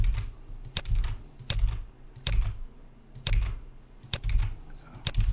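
Keystrokes on a computer keyboard during Revit modeling work, tapped in short clusters of several quick clicks separated by brief pauses, close and moderately loud with no talking.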